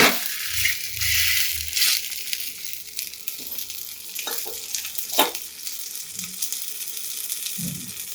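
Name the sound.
semolina pigeon-pea pancake sizzling in pan after flipping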